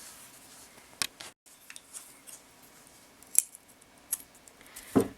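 Scissors snipping beading thread off a beaded bugle-and-seed-bead necklace: a few sharp, close clicks and snips spread out over quiet handling noise.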